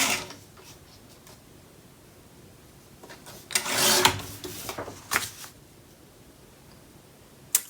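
Paper being trimmed for a Graphic 45 Christmas craft project, quiet at first, then a cluster of scraping, rasping cuts and rubs close by, ending in a sharp click, with no talking.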